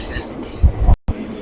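A train winds around a curve through a forested mountain pass, its rolling carriages rumbling with squealing wheels and high metallic tones, loud and close, with a brief dropout partway through.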